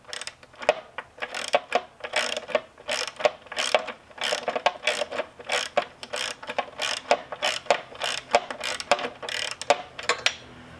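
Wrench working a nylon-insert nylock nut on the blade belt drive of a Toro Timemaster mower, a long series of quick irregular metallic ratcheting clicks and scrapes, close and moderately loud, with no talking.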